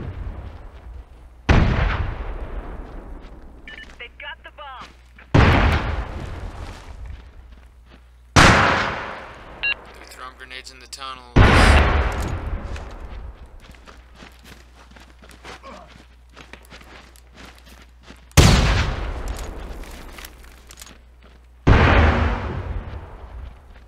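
Heavy, booming gunshots in the military shooter Socom Confrontation on the Kasbah map, about six loud separate blasts a few seconds apart, each ringing out and fading over a low steady background hum.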